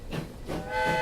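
Steam locomotive pulling away in the Transport Fever train game, a steady hiss with faint whistle-like tones that swell and hold toward the end, moderately close.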